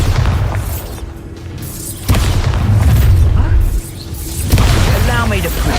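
A Bombarda spell from a Harry Potter video game goes off as loud, booming explosions with bursts and rumbling blasts that swell and fade over a few seconds, close and dominant.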